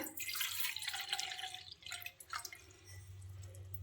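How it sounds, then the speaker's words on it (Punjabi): A glass of water is poured into a vessel, giving a steady close splashing and trickling that thins out and settles into a low running sound toward the end, with no talk. "ਇਹਦੇ ਵਿੱਚ ਆਪਾਂ ਪਾਵਾਂਗੇ ਇੱਕ ਗਲਾਸ ਪਾਣੀ ਦਾ"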